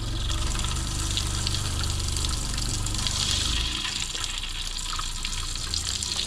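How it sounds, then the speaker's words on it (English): Cold water runs through an RV's plumbing, driven by the onboard water pump, a steady rushing gush with a low pump hum that drops away partway through, leaving the flowing water alone. "We're just going to run the cold water through."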